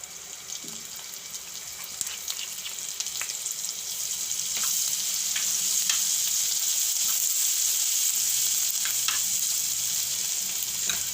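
Cumin, asafoetida, ginger and green chili sizzle in hot ghee for a fenugreek-and-banana curry, a steady bright crackle that swells louder midway with scattered pops and faint stirring, no voices.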